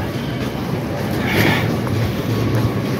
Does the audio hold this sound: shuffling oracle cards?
no